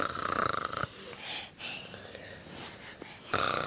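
A young child makes snorting, snore-like nasal sounds, a few rough bursts with quieter breathy stretches between them, close to the listener.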